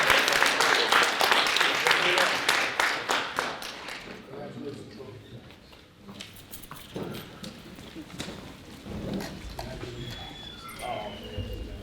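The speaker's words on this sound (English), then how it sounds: "One more round of applause." A crowd at a school signing day event applauds loudly with dense, rapid clapping that fades after a few seconds, followed by quieter room noise with scattered taps and a voice.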